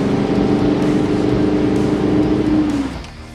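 An off-road 4x4 in sand low range, first gear, bogged in sand, its engine revving hard and steady at high load for about three seconds before the revs drop away.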